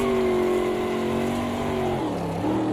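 LMDH prototype race car in a sim racing game sweeping past a Corvette in multiclass traffic, a loud sustained engine howl with a pitch drop as it goes by, alone with no talk.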